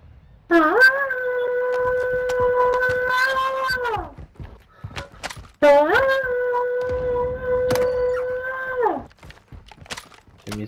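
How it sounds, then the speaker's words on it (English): A puppy in Call of Duty: Modern Warfare II gives two long, loud, steady whining cries, each lasting about three seconds with a pause between, set among faint game noise. "You just scared a puppy for no reason."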